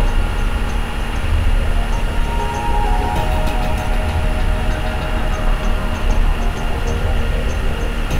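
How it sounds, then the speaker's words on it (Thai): Coal train slowly rolling while dumping coal into a giant hopper at a coal-fired power station, a steady loud industrial rumble with metallic squeals and clanks throughout. "รถไฟ เทถ่านหินลงในถังกรวยยักษ์ ลดแล่นช้าลง แต่ว่าไม่เคยหยุด"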